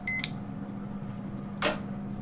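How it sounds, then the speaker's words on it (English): A kitchen timer is set while jars cool during home canning. It gives a short electronic beep, followed later by a brief click, over a steady low kitchen hum. "So I'm going to turn on the timer for 10 minutes"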